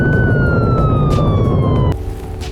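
A sheriff's deputy's police car siren wails on the way to a call, a loud tone sliding slowly downward before cutting off abruptly, leaving road and engine noise.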